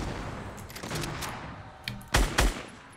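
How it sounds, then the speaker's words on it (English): Gunfire in the video game Fortnite: scattered sharp shots build to two heavy, loud blasts near the end, like a shotgun fired at close range, with no talk over it. "Shoot her with your gun."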